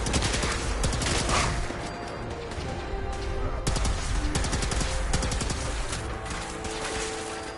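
Gunfire in Fallout 4 comes at the player in rapid, close bursts. Repeated sharp shots and crackling volleys overlap across the whole stretch, with the densest clusters near the start and around the middle.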